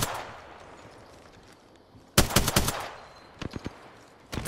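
Gunfire in Apex Legends: a loud rapid automatic burst comes after a quiet stretch of ambience, followed by a few scattered shots and another short burst at the end.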